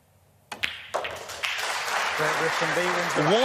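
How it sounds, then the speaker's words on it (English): Crowd applause at a World Cup of Pool match starts with a few sharp claps, then swells into steady, full clapping from a large audience, while a voice speaks over it toward the end. "taking the applause from the crowd"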